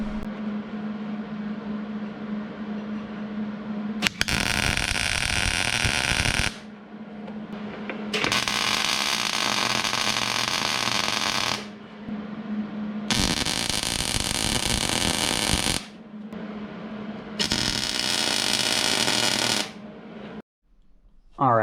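Three long bursts of tack welding on a differential cover, a loud crackling hiss that starts and stops, over a steady low electrical hum.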